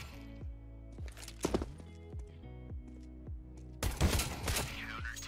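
Pistol fire in a round of Counter-Strike-style competitive shooter play: a few scattered sharp shots over steady game ambience and faint footsteps, followed near the end by a louder, denser burst of gunfire.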